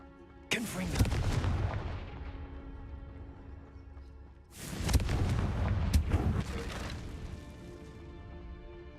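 Two heavy fiery blasts of the Confringo spell erupt in Hogwarts Legacy, each a sharp loud crack followed by a rumbling crackling decay lasting several seconds.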